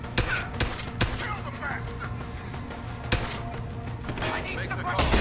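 Rapid bursts of gunfire in the video game Deus Ex: Human Revolution, sharp repeated shots spread across a few seconds over a dense, busy combat backdrop.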